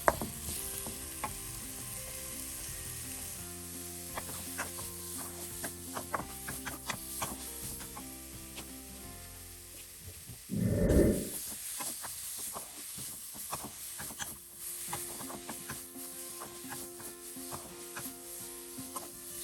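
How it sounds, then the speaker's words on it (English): Onions and peppers gently sauteing in a pan, a soft, steady sizzle with light stirring clicks, interrupted once by a brief louder rustling burst midway. "To saute is to gently fry, and that's what we are doing here, sauteing to gently fry off these onions and peppers"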